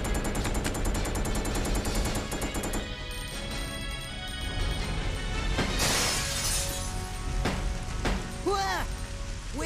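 Gunfire and shattering glass in the survival-horror game Resident Evil Code Veronica. A burst of rapid shots gives way to scattered impacts and breaking sounds over a tense, droning game score, with brief voice-like sounds near the end.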